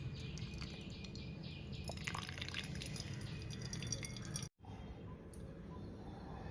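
Cooking water drains from freshly boiled bitter gourd in a kitchen, a faint patter of drips with soft wet squishing, close and quiet throughout.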